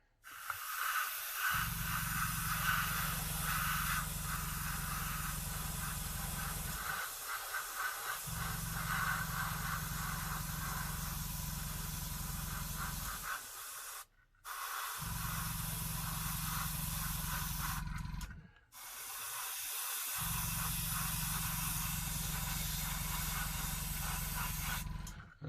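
Harder and Steenbeck Infinity CR+ two-stage airbrush spraying paint, a steady close airy hiss held for several seconds at a time over a low compressor hum, with a few short gaps where the spray stops.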